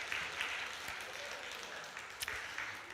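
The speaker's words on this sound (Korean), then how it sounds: "박수하겠습니다" Brief applause from a church congregation during a children's Sunday service, a short burst of clapping of about three seconds at moderate distance, with a few sharper claps standing out.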